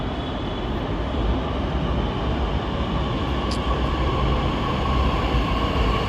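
A metro train in motion gives a steady, loud rumbling roar with a constant hum, heard close from on board without a break and with no voices.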